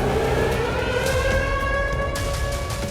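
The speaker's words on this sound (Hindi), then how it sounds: "अगर परमाणु हमला होता है तो इस तरह के सायरन बजेंगे" A Russian civil defense siren sounds a nuclear-attack warning: a loud, sustained wailing tone that holds steady and rises slightly, with no voices over it.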